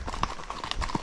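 A young horse's hooves clip-clop at a walk on a trail, a steady run of close, distinct hoof strikes over light background noise.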